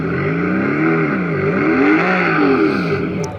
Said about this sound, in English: Here is a V8 from a Mercedes SLS.